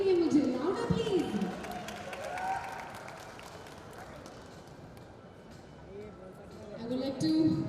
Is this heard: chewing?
no